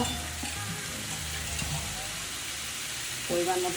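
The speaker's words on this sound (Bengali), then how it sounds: "এবারে আমি এর মধ্যে জল দিয়ে দেবো পরিমাণ মতো।" Water splashes into a pan of fried potatoes for Bengali vegetarian dum aloo, setting off a steady close sizzle and stirring hiss that surges briefly at the end.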